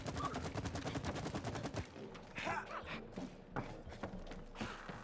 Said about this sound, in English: Hey, you're pretty good with that match gun.